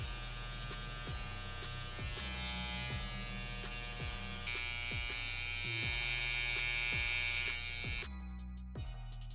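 An electric shaver or clipper buzzes steadily and close while cutting hair during a men's fade, with a constant hum and rhythmic ticking strokes, no one talking.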